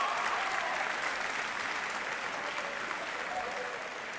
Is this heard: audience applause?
yes